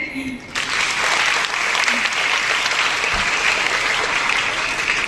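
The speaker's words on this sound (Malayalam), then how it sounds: "ഒന്നും കൈയടിച്ചേ" An audience at a Republic Day speech event breaks into loud, sustained applause that fills the room almost from the start and continues evenly to the end, following a brief moment of a voice.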